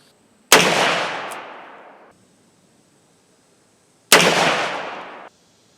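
Two loud, close gunshots from a Ruger Redhawk revolver firing 10mm ammunition, spaced several seconds apart, each a sharp crack followed by a long decaying outdoor echo, with quiet between.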